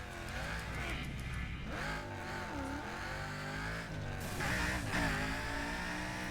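A car engine in the video game Burnout Paradise roars and revs continuously, rising and falling in pitch as it accelerates and shifts, loud and close with no speech.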